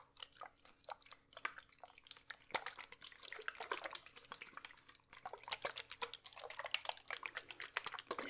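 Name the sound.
water being handled, enchanted water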